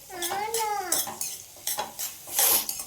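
Onion, tomato, cinnamon and cloves being stirred and fried in a pan for mutton sambar: a utensil scrapes the pan over a light sizzle, with a few clinks and a voice heard briefly.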